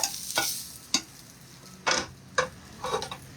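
Shrimp scampi in a hot frying pan, with short bursts of sizzling and stirring scrapes in an irregular rhythm, close and fairly quiet, no talk.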